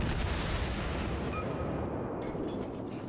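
Naval guns firing in World of Warships, a dense, continuous rumble of heavy cannon blasts with no clear gaps, loud and close throughout.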